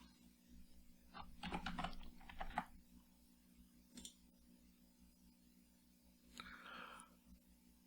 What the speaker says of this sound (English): If someone's not in there, I can type in their name.